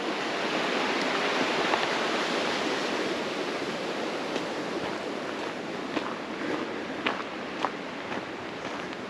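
Kimsey Creek rushing down to join the Nantahala River at a North Carolina campground, a steady broadband roar of flowing water with occasional small splashes, close and continuous with no voices.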